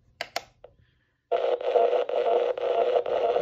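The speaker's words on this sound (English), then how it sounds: "We're going to turn on the radio. We're going to go forward through the FM band." An Emerson CKS1702 radio switches on with a few clicks and then sweeps forward through the FM band, giving a loud stretch of static and garbled station fragments that shifts in waves as the tuning moves.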